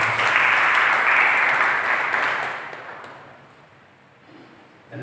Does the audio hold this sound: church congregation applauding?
yes